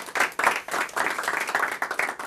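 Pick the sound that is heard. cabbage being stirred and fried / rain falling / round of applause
round of applause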